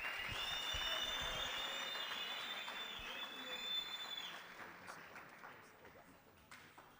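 A crowd at a sport, arts and culture event applauds a group of boys, the clapping loud at first and tapering off under a high sustained tone and some background chatter.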